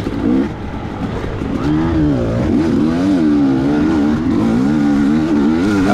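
A CR250 two-stroke motocross bike races around a sand track at a GP event, its engine note loud and close, constantly rising and falling through rapid revs and gear changes for the whole stretch.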